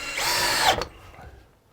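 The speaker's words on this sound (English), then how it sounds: "It's only really when you're at the edges that you need to worry about drilling the holes." A power drill drilling screw holes for a shelf whirs loudly for under a second, its pitch dropping as it stops, followed by quiet handling noise.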